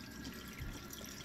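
Hot water runs steadily from a caravan kitchen tap opened fully, a quiet, even rushing flow with no voices.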